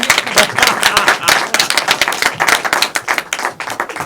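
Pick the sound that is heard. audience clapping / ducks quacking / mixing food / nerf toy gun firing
audience clapping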